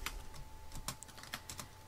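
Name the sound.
typing on a computer keyboard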